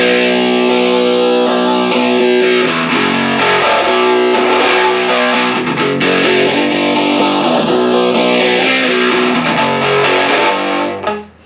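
Distorted electric guitar runs through an MXR Phase 95 phaser pedal, loud sustained chords with a slow sweeping phase shift that rises and falls twice before cutting off.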